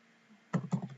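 A few quick keystrokes on a computer keyboard, quiet and close, arriving as a short cluster of clicks after a near-silent start.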